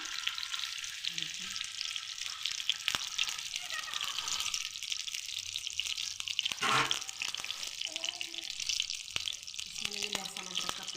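Steady, soft sizzling and crackling of liver frying in hot oil, with occasional clinks and stirring, heard close up while a voice talks faintly.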